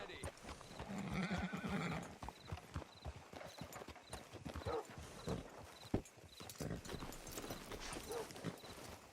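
Horse hooves clip-clop on the ground in Red Dead Redemption 2, a close, irregular run of hoofbeats with a neigh early on, under ambient game sound.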